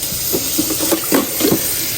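Water poured in to make broth with chicken bouillon powder for Swedish meatballs in a CHEF iQ smart cooker, heard as a few short splashing, gurgling bursts close by with no talking.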